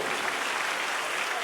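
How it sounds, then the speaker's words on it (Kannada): Loud, sustained applause from an audience at a public ceremony, dense steady clapping filling the whole stretch with no pauses. "ಜೋರಾದ ಚಪ್ಪಾಳೆ."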